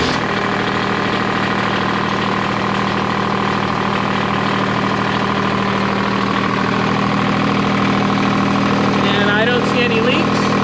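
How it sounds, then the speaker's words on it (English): A farm tractor engine runs at a steady, loud idle with a constant low drone and vibration throughout, and a faint squeak appears near the end. "start the engine and check and see that this does not leak"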